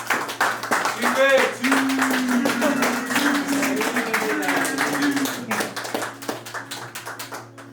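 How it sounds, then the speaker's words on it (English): Applause welcomes a new team member at a celebrity football match event: a scattering of hand claps and taps sounds under a prominent voice talking and calling out throughout, with the clapping light and uneven rather than a full crowd ovation. "let's give him a round of applause"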